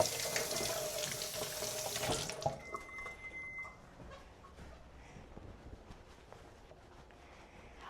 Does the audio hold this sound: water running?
yes